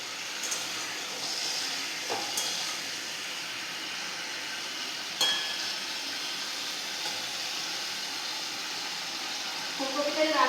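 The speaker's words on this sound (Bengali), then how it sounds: "দুটো সবজির আলু একসাথে ভেজে নিয়েছি, তো আলু একসাথে ভেজে দিয়েছি" Potatoes meant for a cauliflower dish fry together in a pan, a continuous close hiss and sizzle holding steady, with a brief crackle midway and louder spattering near the end.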